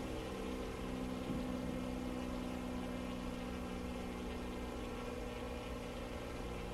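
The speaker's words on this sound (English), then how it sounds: "We got to be careful with this. We don't want to over rev the engine." Aircraft engine in Microsoft Flight Simulator 2020 during a controlled dive with flaps partly out: a continuous, even propeller-engine drone held at a constant pitch throughout, with no talk.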